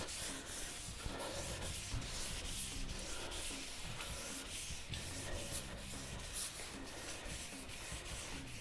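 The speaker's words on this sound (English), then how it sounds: "sand in a different direction, because the next step, the finer paper, is basically to get all the sanding scratches from your first pass out" Wet sanding of resprayed car paint by hand with fine sandpaper, a steady rubbing and scratching that repeats in short even strokes, close and moderately loud, with no talking.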